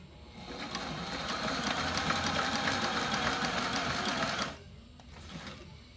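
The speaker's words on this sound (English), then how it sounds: "I'm going to sew right to that corner" A sewing machine stitching a battery strap for an FRC robot, running in a steady fast mechanical whir for several seconds, close and loud, then stopping abruptly into a quiet room with a few faint handling sounds.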